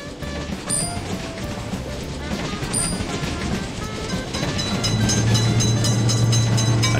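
A train runs through a railroad crossing for cars, its heavy rolling rumble and metallic rattle steady at first, then growing louder and deeper over the final seconds.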